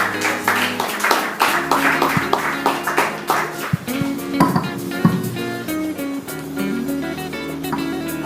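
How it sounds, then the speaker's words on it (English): A crowd at a handing-over ceremony gives the President a round of applause, with dense clapping throughout, swelling and thinning in waves under music, with no speech. "please, with the same round of applause, let's welcome the President, His Excellency, to give us the response"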